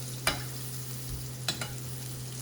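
Sole fillet frying in butter in a tilted pan while being basted, with a steady sizzle underneath and two or three sharp spoon-and-pan scrapes; no talking.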